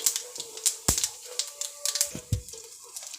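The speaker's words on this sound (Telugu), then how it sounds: "వేగుతుంది పోపు రెడీ అవుతుంది" Mustard seeds, urad dal and cumin crackle in hot oil in a pan for a tempering, with sharp irregular pops and spits over a faint sizzle, close and fairly quiet.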